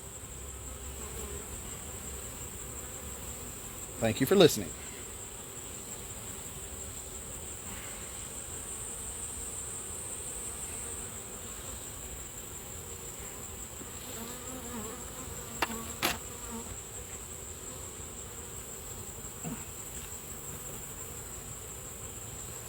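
Honeybees working at the entrance of a nuc hive with a newly introduced queen keep up a steady, continuous hum, broken by a few brief, louder buzzes as single bees fly close past.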